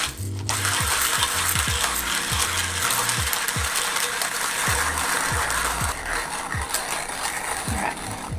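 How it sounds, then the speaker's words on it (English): A hand-cranked manual coffee grinder crushes coffee beans, braced against a thigh, giving a close, steady ratcheting crunch with a repeating clicking rhythm from each turn, no voices. "I use my thigh for support and just start grinding."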